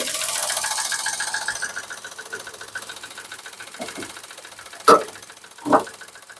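A Datsun Go+ Panca engine idles with a knock from a bent connecting rod, a faint, steady rapid ticking in the background, followed by two louder, brief mechanical clunks near the end.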